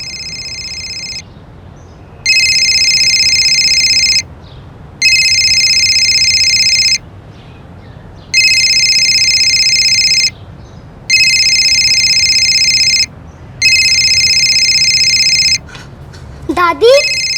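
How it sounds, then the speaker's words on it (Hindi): A phone rings in repeated electronic bursts, each lasting about two seconds with short gaps, loud and steady; a brief voice is heard near the end. "मम्मी की फोन की रिंग तो अंदर से आ रही है।"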